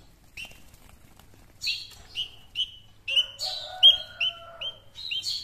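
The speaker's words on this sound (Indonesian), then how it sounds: "Kalau burung pejantung kan suka gantung gitu, nyari cari-cari makanan." A spiderhunter bird chirps nearby, a series of sharp, high, clipped notes that quicken into rapid overlapping calls over faint low background hum.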